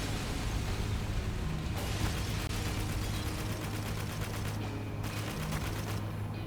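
Sustained gunfire from the video game Spec Ops: The Line while shooting out windows, a dense continuous rattling fusillade with a steady low hum beneath, loud and unbroken, without talk.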